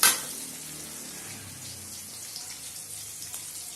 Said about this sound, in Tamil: இப்ப நல்லா வதக்கணும்.